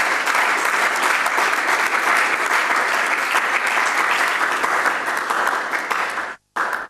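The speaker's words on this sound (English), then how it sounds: "So a round of applause for Kwabena." A forum audience at a public event on mineral royalties bursts into sustained, loud applause that holds steady for over six seconds, then cuts off abruptly near the end.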